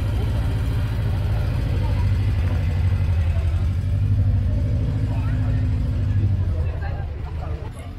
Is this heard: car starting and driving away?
yes